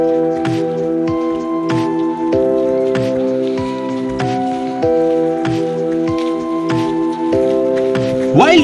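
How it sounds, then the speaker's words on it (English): Rain patters and drips in uneven bursts while trekking in Iceland, alongside sustained musical tones, moderately loud and close, with no speech. "It was raining"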